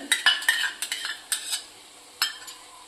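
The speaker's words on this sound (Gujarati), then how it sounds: "હવે આપણે આની અંદર દહીં નાખીશું" A spoon clinks and scrapes against a pot while yogurt goes into a green turmeric curry, a run of sharp metallic taps and stirring knocks, close and fairly quiet, with gaps between them.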